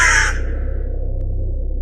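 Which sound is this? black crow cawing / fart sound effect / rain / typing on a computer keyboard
black crow cawing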